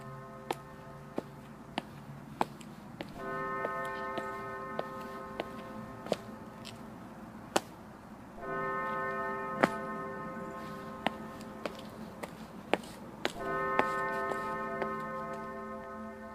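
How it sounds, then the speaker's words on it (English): A church bell gong rings in slow, evenly spaced strikes, each a sharp clang with a long sustained tonal ring that swells and overlaps, alongside a regular ticking, moderately loud in a quiet setting. "A church. First gong."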